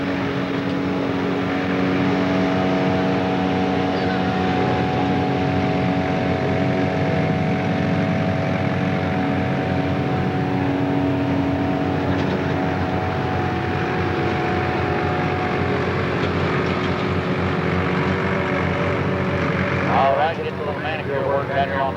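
A 540, 2,000-horsepower alcohol-powered pulling tractor runs at a 1995 Kentucky tractor pull at night, a loud, steady, continuous engine roar with voices faintly underneath.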